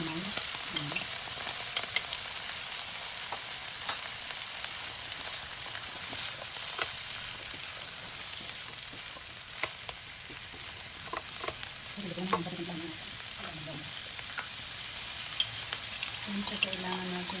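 Chicken, cauliflower and broccoli stir fry sizzling in a pan, a steady close frying hiss with occasional scraping stirs and clinks throughout.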